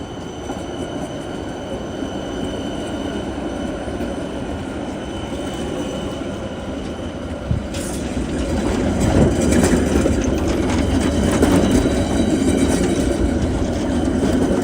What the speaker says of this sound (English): Be careful with the trams.